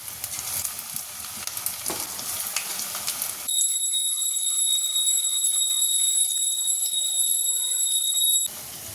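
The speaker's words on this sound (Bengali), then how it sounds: "একদম মচমচে লাল বড়া ভাজা আমার রেডি।" Shrimp fritters (bora) crackle and sizzle steadily as they deep-fry in hot oil, a close, even hiss with a high electronic tone sounding over the middle stretch.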